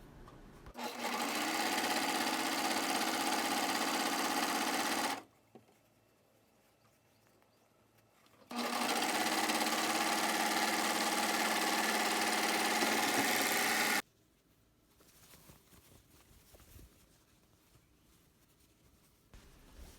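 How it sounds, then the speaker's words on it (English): A serger runs two long bursts sewing across the top edge of a cotton face mask, a fast loud mechanical whir each lasting several seconds, separated by a pause and followed by quieter handling. "Line up the edges and sew across the top. I use a serger"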